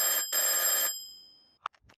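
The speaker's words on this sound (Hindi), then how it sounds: "चाचा चौधरी के घर पर टेलीफोन बजता है।" At Chacha Chaudhary's house a telephone bell gives two loud, close bursts of ringing with a short gap between them, then the sound fades away. A couple of faint clicks follow.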